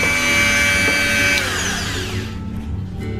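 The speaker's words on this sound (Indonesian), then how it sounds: "sudah dicoba pakai mata bor molar" A Mollar MG005 mini grinder fitted with a drill bit whirs loudly and steadily at close range, then its high motor whine winds down as it spins to a stop.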